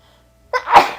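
A single sharp sneeze in the video game Return to Zork bursts out after a brief quiet moment, close and loud, with a quick inhale followed by the explosive release.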